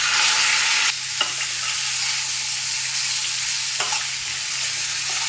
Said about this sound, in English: Combining it well onto the pasta shells and coating them.